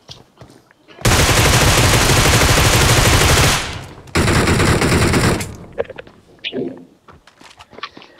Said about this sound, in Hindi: हाँ चल गई गोलियां कौन पागल हो गया